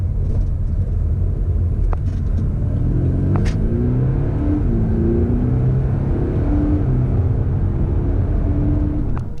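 A 2021 Audi SQ5 diesel accelerating hard through a 30 to 70 mph sprint, its engine a loud, steady low rumble that rises gradually throughout, heard from inside the cabin with no talking.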